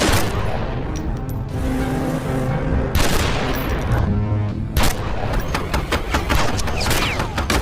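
Bursts of gunfire erupt in an action film fight scene, with several sharp cracks and volleys over a dense, loud mix of crashes and booms.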